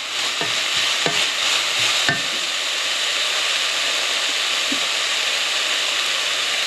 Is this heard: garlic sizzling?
yes